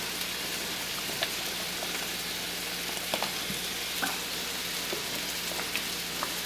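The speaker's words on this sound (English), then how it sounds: "there's the sauce and it's cooking" Meatball spaghetti sauce cooking in a pan on low-medium heat gives a steady close sizzle and bubbling hiss with scattered small pops and crackles, continuous and without talk.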